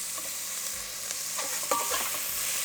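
Onions and green chilies tempering in hot oil with cardamom, a continuous bright sizzle with a few stirring scrapes near the end.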